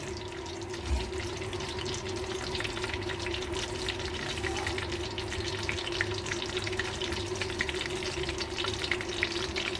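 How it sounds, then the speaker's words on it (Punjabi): Okra (bhindi) frying in a pan, giving a steady, continuous sizzle with a faint underlying hum throughout. "ਹੁਣ ਇਹਦੇ 'ਚ ਆਪਾਂ ਕਰਾਂਗੇ ਭਿੰਡੀਆਂ ਫਰਾਈ"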